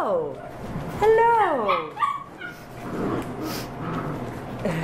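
A Shepadoodle dog sniffles and whimpers close by, with short nasal snorts and yips between moments of a person talking to it.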